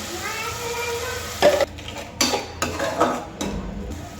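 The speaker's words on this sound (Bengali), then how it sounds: "গুঁড়া মশলাগুলো দিয়ে দেবো এখন দিয়ে দিলাম মরিচ গুঁড়া বেশি করে" A spoon stirs ground spices and chili powder in ghee in a cooking pot, making several separate scraping, clinking strokes against the metal over a low background hum.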